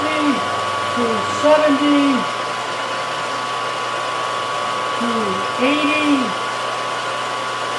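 A machine runs with flood coolant, giving off a steady, even whirring hiss throughout while a man counts numbers aloud over it.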